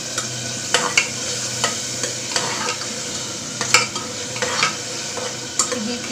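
A capsicum and potato sabzi fries in a pan while being stirred, a continuous sizzle broken by repeated sharp scrapes and clinks of the spoon against the pan, close and without talk.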